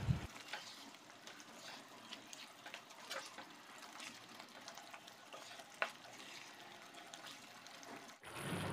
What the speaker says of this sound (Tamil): மஷ்ரூம் மசாலா கிரேவி நல்லா கொதிச்சுட்டு இருக்குது.